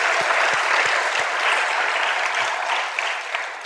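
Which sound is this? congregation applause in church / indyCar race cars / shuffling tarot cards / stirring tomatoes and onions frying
congregation applause in church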